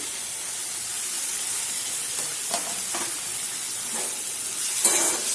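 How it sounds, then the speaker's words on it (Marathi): Finely chopped tomatoes hit a hot pan for an egg masala, setting off a steady, loud sizzle and hiss with a few soft stirring scrapes, no voices. "याच्यामध्ये आपण हे बारीक चिरलेले टमाटर टाकून घेऊया"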